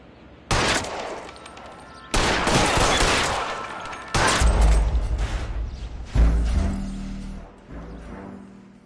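Gunfire in the video game L.A. Noire, heard as four loud, dense bursts of shots roughly two seconds apart, each cutting in sharply and ringing out, the later bursts carrying heavier low booms.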